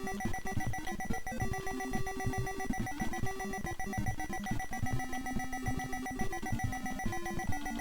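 Repetitive electronic beeping from a fishing video game as a hooked blue marlin is fought, a persistent tonal alarm pattern looping over busy synthetic music.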